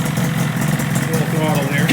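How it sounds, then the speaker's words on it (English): A 1985 Yamaha RZ350 two-stroke motorcycle idles nearby with a loud, steady, burbling engine drone that holds even throughout. "It's just at idle, obviously. Idle's perfect."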